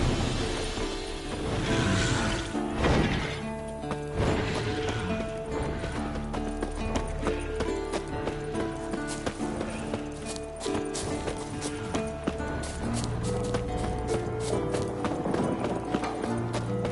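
A purebred warhorse in The Witcher 3 on PS5 clip-clops along with steady, rhythmic hoofbeats, loud and close, with a whinny among busy background game sounds.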